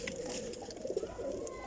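Pigeons cooing briefly close by, a couple of soft low throaty coos over light background noise.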